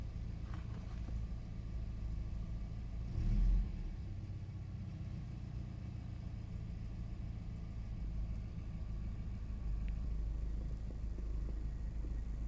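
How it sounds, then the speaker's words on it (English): A car engine idles at a steady low rumble throughout, with a brief louder surge shortly after the start, as the engine is started for an inspection of a faulty temperature gauge. "When the inspector started the engine, the gauge showed minimum and gradually climbed."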